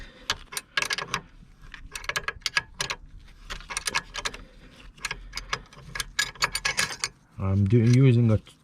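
A bush being pressed slowly into the front pivot arm of a Peugeot 407, heard as close, repeated ratcheting clicks and metallic turning creaks, followed by a brief louder grinding groan near the end.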